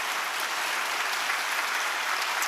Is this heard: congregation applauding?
yes